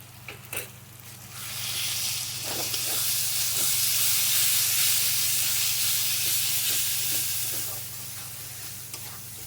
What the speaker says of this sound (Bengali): মশলাটাকে একটু ভালো করে ভেজে নেবো